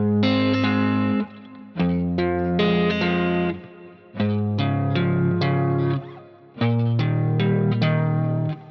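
Slow finger-picked guitar chords roll in steady triplet groups, each bass note followed by upper strings. The phrases ring close and clear with short gaps between chord changes and no voice.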